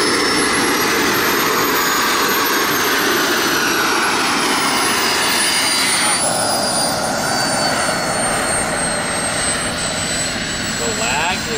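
A giant radio-controlled model jet's turbine roars loud and close throughout, a steady broadband rush with a high whine that slowly shifts in pitch as it runs up for takeoff.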